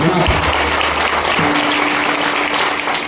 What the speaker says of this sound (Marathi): एकदा या सगळ्यांकरता जोरात टाळ्या वाजवा